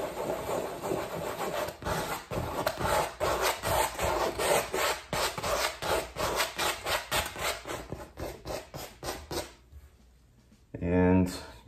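A palette knife rubs oil paint into a black canvas in rhythmic back-and-forth scraping strokes, steady and close for several seconds, then pausing before a short louder burst, with a voice talking over much of it.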